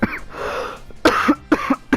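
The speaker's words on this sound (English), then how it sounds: "Sorry about that cough, by the way." A person coughs several times close to the microphone, with a short rasp followed by a cluster of quick sharp coughs in uneven rhythm.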